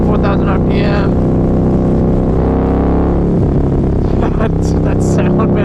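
A Harley-Davidson V-Rod motorcycle engine runs at low RPM, loud and close, with a steady rumbling drone that shifts tone partway through as the revs change.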